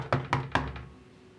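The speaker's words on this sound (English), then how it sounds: "they're knocking on the door" Three or four hollow knocks on a door in quick succession, moderately close, fading into quiet with no voices.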